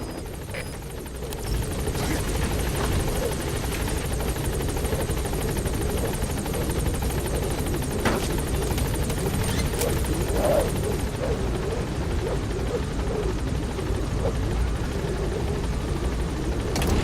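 Pequod helicopter in Metal Gear Solid V hovering at a landing zone, with a steady, loud rotor thrum and engine whine throughout and faint game sounds underneath.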